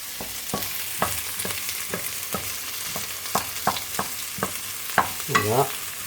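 Penne is stirred in a frying pan over a constant sizzle, with repeated sharp taps and scrapes of the utensil against the pan at an uneven rhythm, close up and with no talking.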